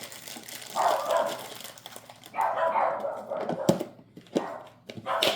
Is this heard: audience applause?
no